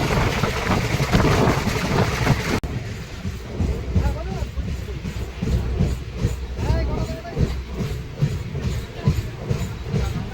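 A Sahid Express passenger train rolls along between Sainthia and Ahmadpur Junction, a loud steady rumble with clattering wheels and rhythmic rail thumps, heard from on board.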